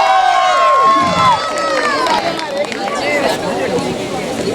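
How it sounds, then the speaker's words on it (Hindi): A stage audience at a wedding sangeet cheers and shouts in a loud, sustained crowd roar, with whistles and high voices over dense babble; individual claps are not distinct. "तो मैं चाहूंगा एक बार जोरदार तालियां होनी चाहिए ऑन स्टेज"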